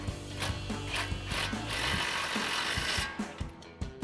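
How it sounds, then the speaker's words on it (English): A ratchet on a swivel with a 21 mm socket tightens a flange nut on a 2004-2020 Ford F-150 front upper control arm, clicking in quick close bursts with short pauses between strokes. "Now we'll tighten this back down with our 21 millimeter socket on our swivel."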